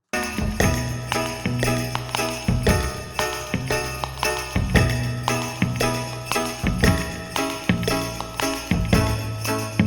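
A band track with punchy rhythmic doubled keyboard chords stabbing in a steady pattern over drums, bright and upfront, no voices.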